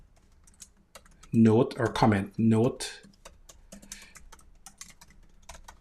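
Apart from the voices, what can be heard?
typing on a computer keyboard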